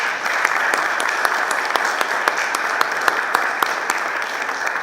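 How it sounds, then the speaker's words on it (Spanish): Audience applause at a panel event on the accusatory criminal justice system, a steady dense clapping throughout, fairly close and loud, with no talk over it. "Para todos ellos les pido un fuerte aplauso"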